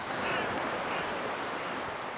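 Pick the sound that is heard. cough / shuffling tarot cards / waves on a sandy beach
waves on a sandy beach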